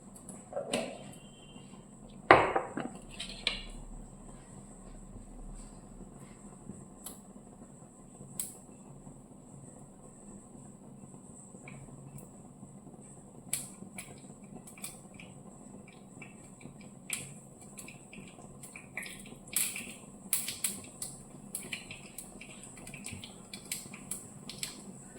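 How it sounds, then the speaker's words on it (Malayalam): Mustard seeds splutter in hot coconut oil, giving sharp scattered pops and crackles, with a burst early on and then sparse quieter snaps over a faint steady hum. Nobody speaks. "കടുക് പൊട്ടിയിട്ടുണ്ട്."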